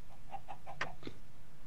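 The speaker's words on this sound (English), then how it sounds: "That chicken just pooped an egg at the thought of that word." A Minecraft chicken lets out a few quick clucks as it lays an egg, short bursts with a brief pop in between, set over a low steady background hum.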